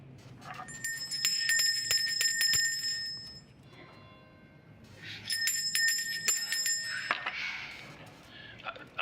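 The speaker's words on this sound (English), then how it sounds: "That bell's supposed to send help running." Hospital call bell ringing in repeated bursts of bright metallic dings, two clusters separated by a quieter gap, with faint background sounds underneath.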